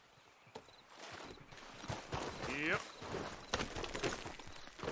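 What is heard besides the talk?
horse hooves in video game Red Dead Redemption 2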